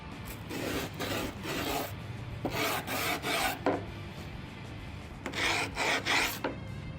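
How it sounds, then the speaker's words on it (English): A skate tool's file scrapes along the edges of a skateboard deck in repeated rasping strokes, several bursts with short pauses, close and clear with no talking. "use this part, the file. And then you're gonna want to scrape on the edges like so"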